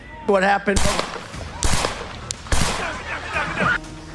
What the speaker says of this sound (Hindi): 20 साल के हमलावर थॉमस मैथ्यू क्रुक्स ने 400 फीट की दूरी से 8 राउंड गोलियां फायर की थी।